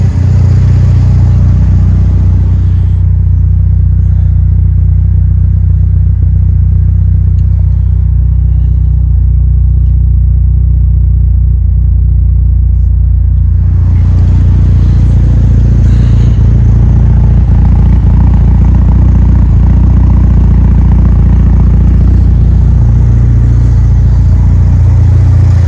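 A Mitsubishi Evo 8 with a swapped-in 4G engine, warmed up and running close by with a loud, continuous low rumble. The tone shifts partway through as the revs change. No voices are heard.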